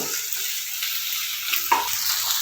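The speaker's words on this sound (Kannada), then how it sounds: "ಈ ಥರ ಸ್ವಲ್ಪ ದಪ್ಪ ದಪ್ಪಗೆ ಫ್ರೈ ಮಾಡ್ಕೋಬೇಕು ಫಸ್ಟು" Food frying thickly in a pan, a steady dense sizzle with occasional stirring scrapes, heard close and alone.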